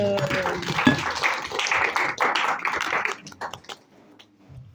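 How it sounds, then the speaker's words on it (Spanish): Applause for students in a classroom anatomy lesson: a burst of clapping from a small group, fairly close, fading out after about three seconds. "Un aplauso para ellos."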